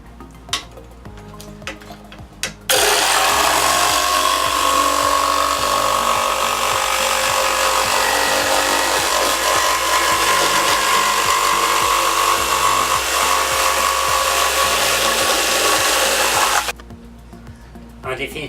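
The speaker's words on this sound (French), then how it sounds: "Pour scier avec une scie électroportative, Il suffit d'appuyer la semelle de l'instrument sur l'un des bords du guide-scie." A portable electric saw cuts through wood along a saw guide, its motor winding up after a few light knocks, then a loud, steady whining cut for about fourteen seconds before stopping abruptly.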